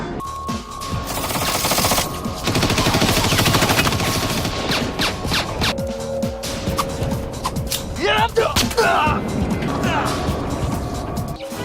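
Bursts of gunfire crackle through a busy, loud film scene set in a park, with rapid shots amid shouting voices and other clatter throughout.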